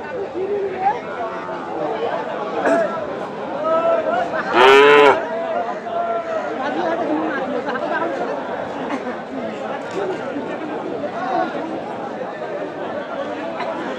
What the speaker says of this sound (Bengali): তো এই হচ্ছে টোটাল সাদা রঙের এই বাছুরটি